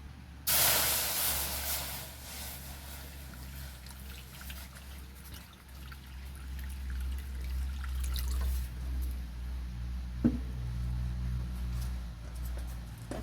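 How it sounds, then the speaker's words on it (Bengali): Water is poured into a hot kadai for making musur dal with jackfruit, giving a loud steady hiss and spray that starts abruptly and runs on throughout, with a brief clink near the end. "কড়াতে দিয়ে দেবো আবার জল।"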